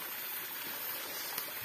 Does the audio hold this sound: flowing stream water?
yes